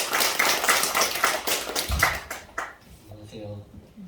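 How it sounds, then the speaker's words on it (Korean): Sunday service congregation in a Korean church claps together with sharp, fairly quick hand claps that thin out and fade, then a voice begins speaking as the applause ends. "박수하겠습니다."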